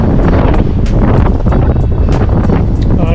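Strong wind roars across a reefed-down sailboat at sea in twenty knots of breeze, loud, constant buffeting against the microphone with wash of water beneath, no talk.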